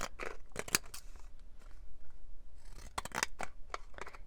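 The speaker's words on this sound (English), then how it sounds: "We'll just cut it with the decal edge scissors." Decal-edge scissors cut through paper for a journal notebook pocket and tag, a series of close, crisp snips in uneven bursts with short pauses between groups of cuts.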